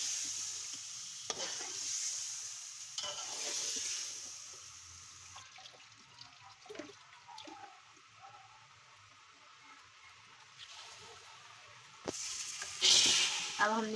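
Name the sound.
chicken biryani masala frying in pan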